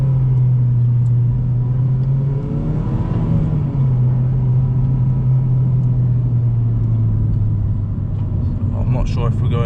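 Honda Civic Type R FD2 with a VTEC engine, heard from inside the cabin as a steady loud engine drone that rises in pitch at one point and then settles, with a voice talking over it.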